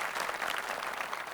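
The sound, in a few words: audience applause at a keynote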